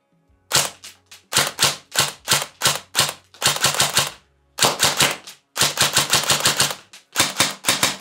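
ICS DD MK18 electric airsoft rifle firing 6mm BBs with precocking active, crisp clicking shots in single shots and rapid bursts, close and loud with brief pauses between strings and no talk.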